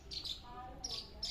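Sparrow-type chicks in a nest inside a house give high, thin chirps in short bursts, three or four faint peeps spaced irregularly over quiet background.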